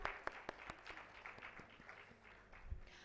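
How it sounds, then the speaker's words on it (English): An audience at a conference inaugural ceremony applauds, a fairly quiet patter of clapping hands with a few sharper claps standing out. "So a huge round of applause for the ma'am."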